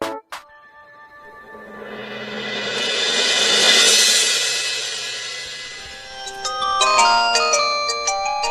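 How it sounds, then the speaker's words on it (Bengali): A phone ringtone plays a bright electronic melody, swelling in a sustained chime before breaking into quick repeated beeping notes, loud and alone with no voices. "না ফোন করছে"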